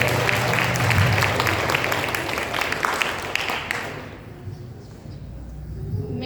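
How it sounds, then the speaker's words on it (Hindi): A church congregation at a satsang applauds loudly as a dense, continuous wash of many hands that fades after about four seconds, leaving quieter murmuring. "जोर से ताली बजा सकते हैं प्रभु के लिए"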